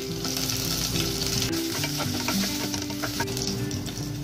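Ginger, garlic, curry leaves and green chilies sautéed in coconut oil crackle and sizzle loudly and steadily up close, with a continuous dense fry and faint stirring, no voices.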